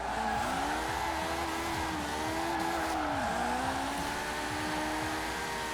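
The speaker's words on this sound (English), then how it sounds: "it's definitely spinning those rear wheels" A car engine in Forza Horizon 4, a very high-revving car, roaring steadily with tires squealing as the rear wheels spin, the pitch sweeping up and down, loud and continuous.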